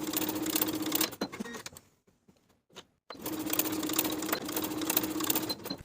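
Sewing machine basting a pant piece to a pocket with a quarter-inch seam, stitching in two steady, loud bursts separated by a short pause with faint handling sounds.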